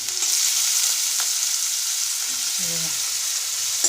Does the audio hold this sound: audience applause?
no